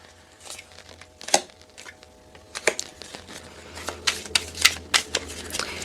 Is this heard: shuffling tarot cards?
yes